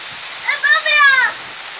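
First rain falling in Paphos, Cyprus, a steady soft hiss of rainfall running through the clip while a voice speaks over it for about a second.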